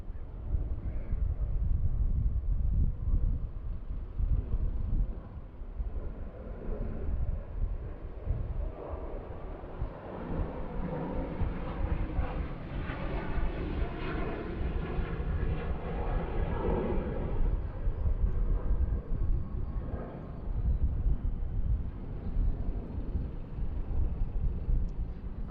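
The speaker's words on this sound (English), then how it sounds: "So here comes our Go Air A320 Neo. Start getting underway here on runway 19 right." A Go Air Airbus A320neo gets underway on runway 19 right at Bangkok airport, its jet engines a steady, broad roar that swells and rumbles without pause, with wind buffeting the microphone.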